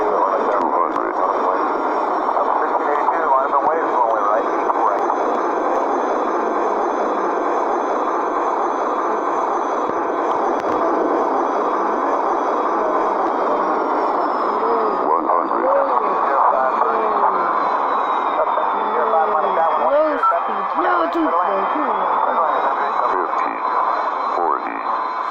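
A steady airplane engine drone from a flight video game plays continuously, with a gliding tone and a voice talking over it.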